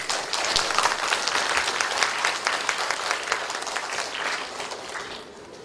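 Sustained audience clapping at a Yeouido Sujeong apartment reconstruction association briefing, welcoming a speaker to the podium, steady and moderately loud before tapering off near the end.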